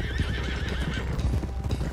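Horses in Red Dead Redemption 2 trot close by with quick, rhythmic clip-clopping hooves and a whinny over the hoofbeats, with no one talking.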